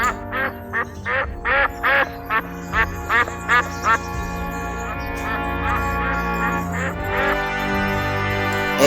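A duck quacks in a rapid series of about a dozen loud, evenly spaced quacks, then the calls blur into softer, overlapping quacking over a steady background.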